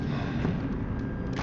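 Gunshot in the video game Batman: The Enemy Within, a dense, sustained burst of rumbling report filling the short moment, loud and close with no voices.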